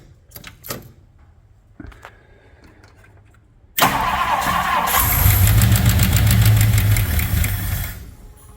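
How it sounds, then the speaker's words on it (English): A 1964 Ford Thunderbird V8 cranks on the key after some clicks and handling noises, catches abruptly and settles into a loud, steady idle with a faint light tapping, close up and without talk. "So now we'll hook up the battery, turn the key on, and hopefully we have far less rattly clanks."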